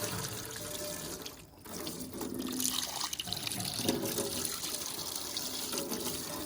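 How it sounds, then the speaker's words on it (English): Water poured from a watering can over a gold prospecting highbanker, rinsing dirt through it: a steady, close splashing and trickling stream that never pauses. "got a watering can, and I'll just go through and rinse all that out"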